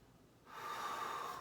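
A single slow, deep breath drawn during crocodile breathing in a prone mobility exercise, rising into a soft, airy rush close to the mic with no talk.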